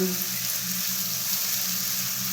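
Kangkong stems cooking in a pan, partly covered, giving an even sizzling hiss with a low steady hum beneath, close and continuous without voices.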